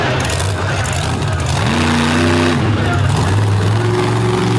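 A big block engine in a race truck revs hard and climbs in pitch as it fights for traction on a slick dirt track, loud and close beneath an announcer's commentary.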